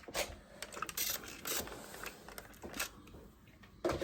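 A sewing machine understitches a shirt seam in a V-neck shirt, making quiet, intermittent mechanical whirring bursts with short pauses and light clicks between them.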